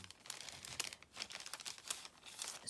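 A crinkly plastic packet of craft die cuts being handled, with soft rapid crackles and rustles, close and quiet, no talking.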